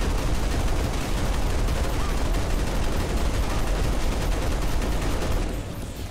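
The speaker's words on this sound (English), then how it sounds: "American made assault rifle" Sustained, dense assault rifle fire from Halo Reach, a continuous loud rattle of rapid shots that keeps going for several seconds before easing off slightly at the end.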